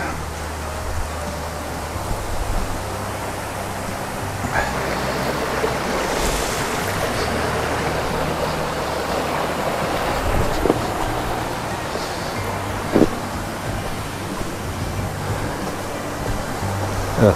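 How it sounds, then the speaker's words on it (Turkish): Tümbi Creek, a mountain stream near Trabzon, rushes steadily over rocks, a broad continuous water roar close by with a few faint knocks, and no voices. "Evet, burası Tümbi Deresi."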